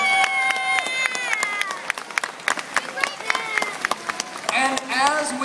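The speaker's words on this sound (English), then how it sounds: "How about a round of applause" A crowd at a Pokemon VGC Masters Division final in Indianapolis applauds with scattered claps and cheers while tonal music plays throughout, the sound fairly loud and steady.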